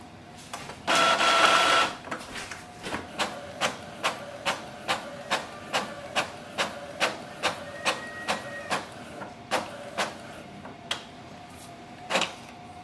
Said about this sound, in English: It can do the two-sided automatic printing.